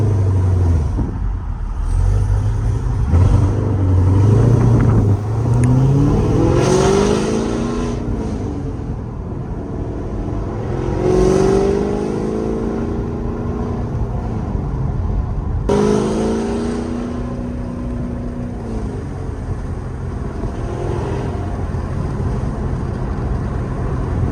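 Car engine accelerating from inside the cabin, with rising tonal sweeps as it climbs and shifts through several gears, a steady loud drone throughout.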